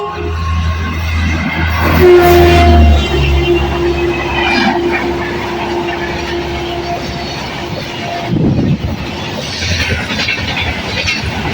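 A Katwa special passenger train arrives, rumbling and rolling past up close, wheels clacking with a long squeal, loud at first and easing off, with no horn audible.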